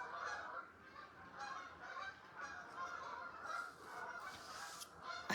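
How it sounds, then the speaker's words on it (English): A flock of geese honks repeatedly at a distance, overlapping calls rising and falling, fairly faint and steady throughout. "I mean, listen to these geese."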